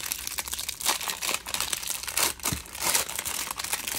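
A foil pack of 2023 Prizm football cards being torn open up close, with steady crinkling and ripping bursts over about four seconds.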